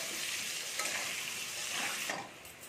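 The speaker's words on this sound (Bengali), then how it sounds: "এবার আমি আলুটাকে একটু ভেজে নিচ্ছি, একটু লাল করে ভেজে নেবো।" New potatoes fry in a pan for a Bengali jackfruit-and-prawn curry, giving off a steady, close, dense sizzle with occasional stirring scrapes and no voices.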